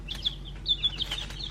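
Young chicks in a brooder give soft, high peeping chirps, a few scattered calls over a low steady background hum.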